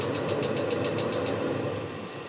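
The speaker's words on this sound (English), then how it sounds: "Stops pumping fuel, keeps running the fan until the exhaust temperature falls away through the floor." A Webasto diesel heater winds down after its fuel pump stops, leaving a steady whirring fan with a rapid ticking pulse that fades slightly at the end, no voices.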